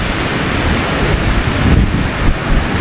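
Strong wind roars in a steady, loud rush across an exposed mountainside during a storm, buffeting the microphone with no pauses.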